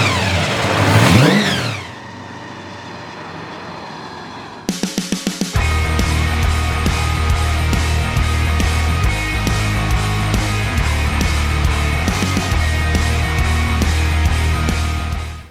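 A low-mileage blown big-block 1968 Dodge Charger V8 rumbles loud and close, with a sharp rising rev at the start before settling into a heavy, throbbing idle.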